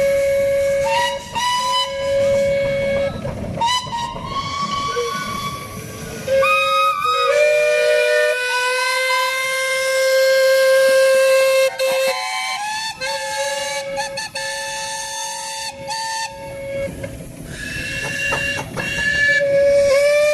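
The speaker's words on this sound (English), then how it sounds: "Here we go, the tractor engines here." Steam traction engines at a Castle Combe steam rally blow long, loud steam whistles, several overlapping tones sounding in turns over rumbling engine and crowd noise throughout.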